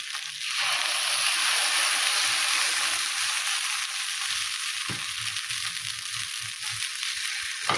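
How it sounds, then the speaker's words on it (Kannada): Paddu batter spooned into a hot paddu pan sizzles loudly and continuously up close, a dense frying hiss with faint crackles throughout and no voices. "ಈಗ ಇದಕ್ಕೆ ಈ ಪಡ್ಡು ಹಿಟ್ಟನ್ನು ಸ್ವಲ್ಪ ಸ್ವಲ್ಪ ಹಾಕ್ಬೇಕ್ರಿ."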